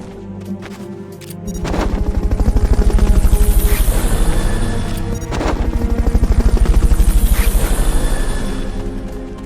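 Fulton recovery helicopter in the video game Metal Gear Solid Peace Walker, a loud, close rotor chop with rapid rhythmic thumping that swells, dips briefly and swells again, with a few sharp bangs in between.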